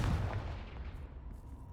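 Confringo fire spell explosion in the video game Hogwarts Legacy, a single deep, muffled boom at the start that decays into a rumbling tail, fairly faint overall.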